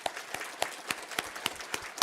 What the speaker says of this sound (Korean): 우리 밀양 가서도 건강하시라고 박수하도록 하겠습니다